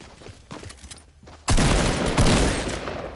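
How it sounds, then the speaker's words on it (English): Grenades fired in a first-person shooter video game: a sudden loud, dense explosive burst cuts in midway and rumbles on to the end, after a quieter stretch of scattered game noise. "Oh, he shot grenades!"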